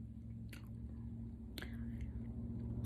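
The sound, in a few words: chewing Goli apple cider vinegar gummies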